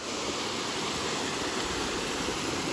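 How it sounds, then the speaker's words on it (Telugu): Waterfall near Madanapalle pouring over three built concrete steps, a steady close rushing roar of cascading water that fills the whole stretch with no voices. "ఇంకా నీళ్ళు తగ్గినట్లున్నాయి ఎగ దుంకుతాండాయి మూడు స్టెప్పులు కట్టినారు"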